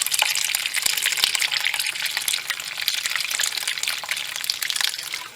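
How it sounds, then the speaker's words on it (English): Water gushes from a tap into a bowl of beans being prepared for moi moi, a continuous close, loud splashing flow lasting the whole stretch. "I'm going to go back and run some more water into it"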